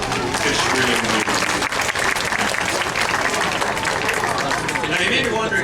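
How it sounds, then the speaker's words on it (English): Audience at a beluga whale show at the Vancouver Aquarium breaks into loud, dense applause and cheering that fills the whole stretch without pause. "Round of applause."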